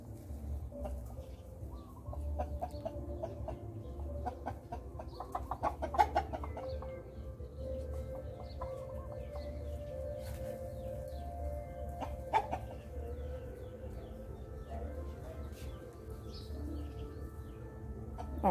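Chickens cluck softly around a rural Thai home, with scattered clucks and calls over a steady low background hum and no clear talking.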